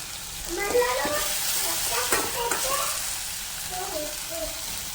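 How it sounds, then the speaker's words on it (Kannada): Curry leaves crackle and sizzle in hot oil in a pan for okra gojju, with bright popping bursts and light stirring, close up and fairly loud. "ನೆಕ್ಸ್ಟ್ ಇದಕ್ಕೆ ಕರ್ಬೇವಿನ ಸೊಪ್ಪು ಹಾಕ್ಕೊತಾ ಇದ್ದೀನಿ."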